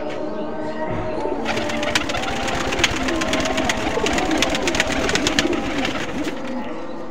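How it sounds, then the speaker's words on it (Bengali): A Khulna red-necked and chot cross pigeon coos continuously amid a dense, busy clatter of rapid tapping and rustling, fairly loud and close, with no speech. "আমাদের খুলনার যে ঐতিহ্যবাহী গলালাল কবুতর এবং চট কবুতরের সমন্বয়ে তৈরি কবুতরটা"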